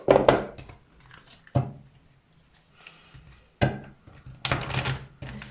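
Tarot cards drawn from a deck: a few short, crisp riffling and slapping bursts of card stock separated by quiet pauses, close by.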